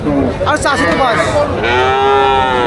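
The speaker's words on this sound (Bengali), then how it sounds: "এদিকে সব আবার গাভী" Cows low loudly and close at a crowded cattle market, several overlapping drawn-out moos rising and falling over a busy crowd murmur.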